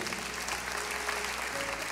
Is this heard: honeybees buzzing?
no